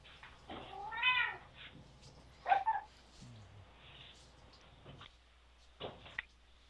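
A male cat meows indoors, two or three drawn-out cries separated by quiet pauses, fairly close and moderately loud, with a soft low voice murmuring briefly in between.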